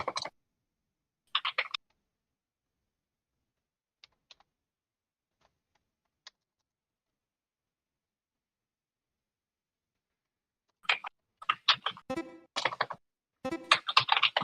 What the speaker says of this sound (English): typing all of my correct answers poorly